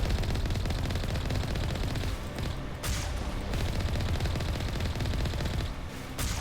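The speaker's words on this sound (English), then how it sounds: "I don't actually see the targets I'm shooting, but I'm shooting in that direction" Sustained automatic weapon fire in Mass Effect 1, loud and continuous bursts with only short pauses, with no voices over it.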